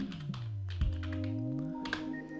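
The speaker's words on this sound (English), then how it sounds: "we type in monkeypox" Quiet clicking of typing on a computer keyboard, a handful of soft taps spread over a couple of seconds against a steady electronic hum with sliding tones.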